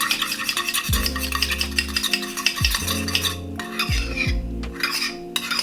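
Olive oil being stirred into a homemade marinade, with a spoon or utensil clinking and scraping against a dish in short repeated strokes, close and fairly loud, with no talking.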